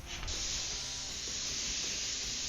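Steady spray hiss of undercoat being sprayed onto the fender of a 1935 Dodge car runs without pause, loud and close, with a brief sharper burst at the start and no voices.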